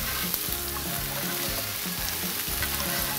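Onion and bell pepper frying in a pan with already cooked carrots, making a loud continuous sizzle close up, with regular stirring scrapes repeating about twice a second and no talking over it.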